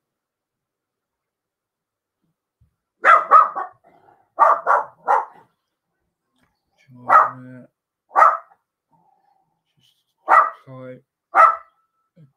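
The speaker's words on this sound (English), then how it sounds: "Sorry about the dog." A pet dog barks in short bursts at close range indoors, a few sharp yaps spaced between a man's calm speech at a model-building bench.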